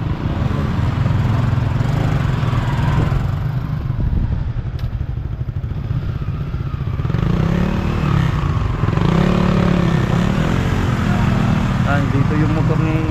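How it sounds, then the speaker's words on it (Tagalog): A motorcycle engine drones steadily and close throughout, with people talking over its rumble. "Dito yung motor ni Igora."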